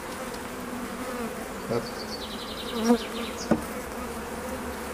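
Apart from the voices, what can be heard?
honey bees buzzing on frames of a small hive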